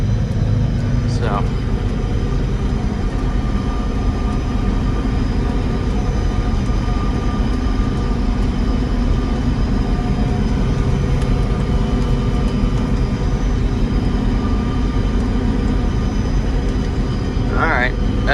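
A forage chopper harvesting milo silage drones with a steady, loud, close engine roar that holds unbroken throughout, with brief rattling clanks near the start and end.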